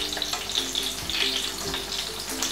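Chicken kebabs frying in a pan as they are turned, a continuous moderate hiss of hot oil with a couple of soft knocks from the turning.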